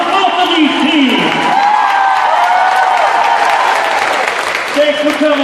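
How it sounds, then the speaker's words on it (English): Crowd applause and cheering fill the gym for both teams at a college acrobatics and tumbling meet between Augustana and Oregon, a steady sustained roar mixed with tonal voices and background sound. "how about an Augustana round of applause for both of these teams?"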